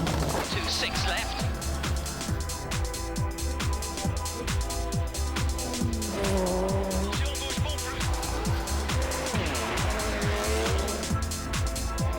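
Rally cars tear through the Langley Park super special stage, engines revving in rapid bursts with tire squeal and skidding from close by, all under continuous commentary.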